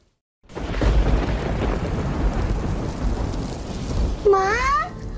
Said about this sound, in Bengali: বাইরে কি হারে বৃষ্টি হচ্ছে বলো তো? কত জোরে জোরে বাজ পড়ছে।